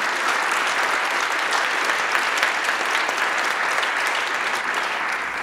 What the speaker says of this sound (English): A round of applause for Grace and Tom.